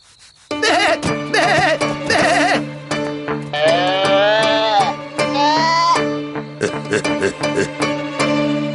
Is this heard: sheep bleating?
yes